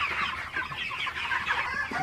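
Broiler chickens in a poultry house cluck and chatter continuously, a dense overlapping flock close by, with no talking.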